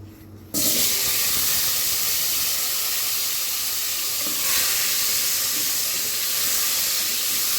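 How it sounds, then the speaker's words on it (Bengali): Salted potato pieces hit hot oil in a pan and set off a sudden, loud, steady sizzle and hiss. The frying continues evenly for several seconds with no talking. "আলুর জন্য প্রথমে আমি একটু প্যানে তেল দিয়ে ভেজে নিব হালকা করে ফ্রাই করে নিব"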